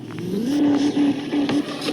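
A Land Cruiser's engine revs steadily as it climbs a hill in Indian Vehicle Simulator, a game: a continuous mid-pitched drone with brief dips and surges in pitch, loud and close throughout.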